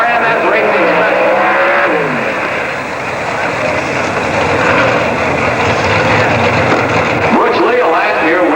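Drag race cars roaring at the 1988 NHRA Winternationals in Pomona, a Rod Shop Pontiac among them, loud sustained engine noise filling the whole stretch with a brief dip midway, with an announcer talking over it.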